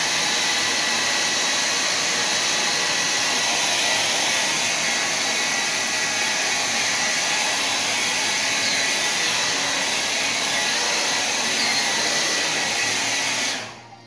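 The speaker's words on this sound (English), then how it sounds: "I normally do a few passes, especially when I'm using the hair dryer." A hair dryer blows steadily and loudly at close range over fresh spray paint art, a constant broadband whoosh that holds for the whole stretch before cutting off abruptly at the end.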